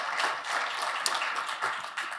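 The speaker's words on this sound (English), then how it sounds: "A round of applause for Harpreet" An audience claps for a panelist at a telco cloud conference, a dense, steady patter of many hands applauding at moderate distance.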